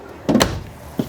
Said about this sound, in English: Nice storage drawer.